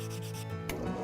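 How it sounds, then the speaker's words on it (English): Rigorous sanding on a hand-carved wooden duck decoy, a steady close rubbing scrape that runs continuously with a brief brighter stroke midway, no voices. "Some rigorous sanding smooths out the rough spots."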